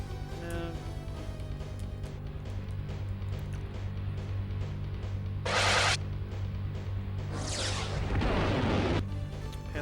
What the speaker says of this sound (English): Oh, there's the explosion. Did you hear it?